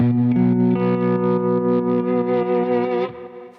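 A lap steel guitar tuned to open D rings out with a sustained chord whose bright harmonics hold steadily before the sound cuts off near the end.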